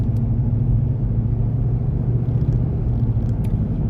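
Vehicle hauling hay on the road, a continuous loud low rumble of engine and road noise with no break.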